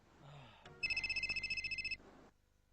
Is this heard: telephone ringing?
yes